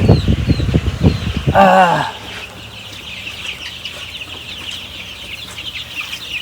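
A loud flurry of chicken clucking and wing flapping around newly hatched chicks fills the first two seconds, then fades to quiet ambience with a faint hum.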